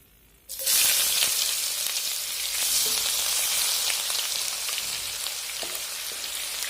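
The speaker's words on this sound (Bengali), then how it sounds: "পেঁয়াজটা ব্রাউন হওয়া পর্যন্ত আমি ভেজে নেব।" Steady, loud crackling sizzle of onions frying in hot oil, starting abruptly and continuing densely with occasional sharper pops, no voices.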